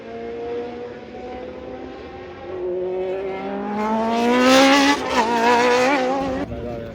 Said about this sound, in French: il y a des voitures qui passent